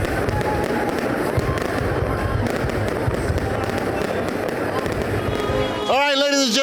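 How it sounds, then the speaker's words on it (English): Fireworks bursting continuously in a dense, crackling barrage at a Cleveland holiday season kickoff celebration, loud and sustained, with crowd noise mixed in and a voice rising over the booms near the end. "revelers were treated to one of the best fireworks show of the year"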